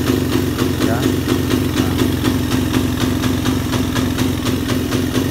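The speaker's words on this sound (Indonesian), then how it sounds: "Hidup ya, hidup normal, tapi digas seperti ini." A Suzuki Satria FU 150 motorcycle engine with a fault that makes it hard to start and reluctant to rev runs steadily near the microphone, with rhythmic pulsing throttle blips over a continuous low idle.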